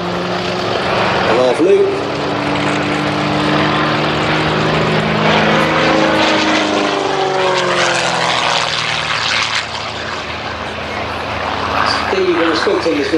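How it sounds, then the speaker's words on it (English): A Gamebird GB1, a very light, powerful aerobatic plane with a four-bladed propeller, climbs steeply at an airshow at Sywell, its engine and prop droning loudly and steadily with shifting pitch, while a commentator talks over it. "Very light aeroplane, lots of power, straight up into"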